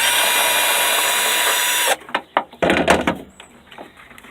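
A power tool whirs steadily while removing bolts on a Ford Aspire, then stops, followed by a few short bursts and clanking knocks of loosened bolts and parts.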